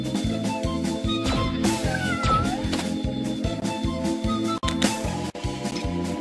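Cartoon cats meow in the Strike Force Kitty video game, with repeated mewing cries over a looping, rhythmic game soundtrack that plays throughout.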